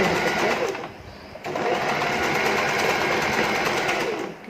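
A sewing machine stitches the joined sides of fabric in a fast, steady mechanical whir, stopping briefly partway and then running on, close and fairly loud.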